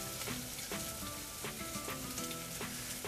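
Mutton meat hits a pan of softened fried onions and sizzles in a dense, steady crackle with faint clinks and stirring, close and continuous with nobody talking.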